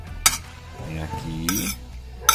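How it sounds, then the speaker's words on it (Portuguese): Half a red onion cut into half-moons and tomato being tossed together for ceviche, with a few sharp utensil clinks against a bowl amid soft mixing noise and a brief voice in the middle. "dão aquela misturadinha para poder dar aquela soltada"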